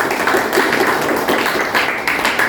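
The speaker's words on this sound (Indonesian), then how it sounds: "kita tepuk tangan dulu, coba tepuk tangan dulu" Teachers at an Indonesian school dissemination gathering clap together in a dense, continuous patter, close and fairly loud, with a few louder claps standing out over the steady wash.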